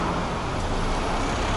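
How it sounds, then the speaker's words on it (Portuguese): Bus passing on a road near Gatwick in south-east England, a continuous broadband roar of traffic and engine noise at steady loudness, with no voices. "E mais um autocarro."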